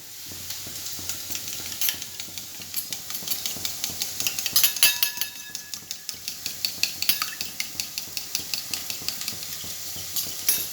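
Rapid, steady tapping of a utensil against a bowl as an egg is whisked for chow mein, with a faint sizzle of frying in the background.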